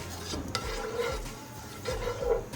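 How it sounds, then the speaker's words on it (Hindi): A tablespoon of cumin seeds frying lightly in reused oil in a kadai gives a soft, steady sizzle, broken by a few scraping stirs and light metal clinks close by. "1 टेबल स्पून मैंने इसमें ज़ीरा ऐड किया है। इसको हल्का सा फ्राई करना है आपने।"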